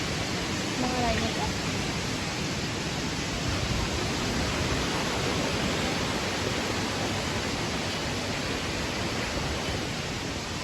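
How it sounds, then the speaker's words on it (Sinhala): Water drawn from a tank falls through a small spout at the Goraka Ella bathing spot in Amithirigala, Sri Lanka, making a constant loud, even rushing splash that never lets up. "ඉන්න මෙතන පොඩි පීල්ලක් තියෙනවා ටැංකියෙන් උදුරන වතුර ටික මෙතනට වැටෙනවා"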